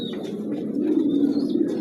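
Grizzle racer pigeons coo softly and steadily at close range, a low continuous murmur from the loft with no talk over it.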